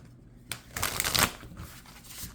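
A deck of cards is riffle-shuffled close up, a quick burst of fluttering, rustling snaps that swells and then fades.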